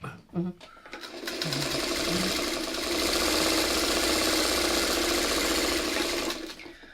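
A sewing machine stitches quilt pieces together in one continuous loud run of rapid needle whir lasting several seconds, close by, with a brief spoken moment before it starts.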